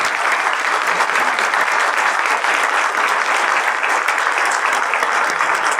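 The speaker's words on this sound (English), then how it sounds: "just give these three a round of applause for doing that" Audience at a talk on trust and relationships gives a round of applause, a dense, loud, continuous roar of many hands clapping evenly throughout with no speech over it.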